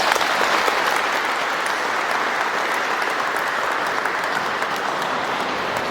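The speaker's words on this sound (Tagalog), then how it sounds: "bigyan po natin sila ng masigabong palakpak" Warm, sustained applause from an audience at a Filipino community gathering in Amsterdam, dense and even clapping filling the room without a break.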